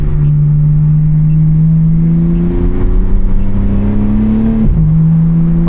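A BMW G80 M3 accelerates hard in second gear, its engine tone climbing steadily from inside the cabin, then cutting abruptly for an ignition-cut upshift before pulling on again, loud and close.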